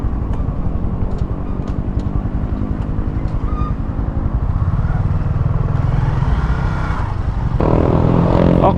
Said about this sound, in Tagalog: This motorbike can run at least 100 km per hour, so it's good enough for us to use here in province.